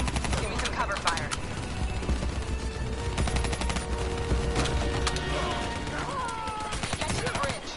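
Rapid bursts of video game gunfire crackle in uneven clusters under a steady rumble and scattered effects, with voices talking over the shooting.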